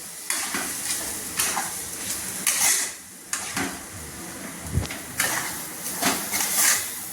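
A spoon scrapes and stirs chickpea dal filling with spices in a pan, irregular close scraping strokes with faint sizzling between them.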